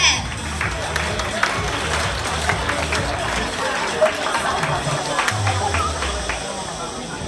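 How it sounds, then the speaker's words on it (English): A large audience at a school debate closing ceremony applauds the champions, a steady dense wash of clapping throughout, fairly loud and even, with a low voice faintly underneath near the end. "Please give them a big clap."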